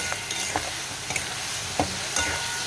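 Spices and chili powder sautéing in a pan for a fish curry with potato and eggplant, a steady close sizzle with a few soft scraping strokes of a spoon, no voices.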